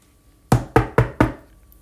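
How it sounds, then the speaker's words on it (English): Four quick sharp knocks on a door, close and evenly spaced, ringing alone against near silence. "a knocking is heard."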